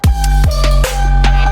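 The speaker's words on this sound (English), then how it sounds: "that's been my favorite way to make bass fills and just glitch sounds, is by using the spectral resonator for that" A glitchy bass fill from a spectral resonator fed with random noises, rendered as a loud, pitched sub-heavy bass line broken by sharp clicks and stuttering hits, alone without voices.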